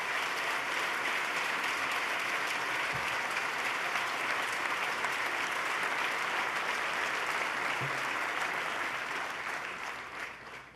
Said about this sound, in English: Let's give him a big round of applause and thank Sean Donovan for his partnership.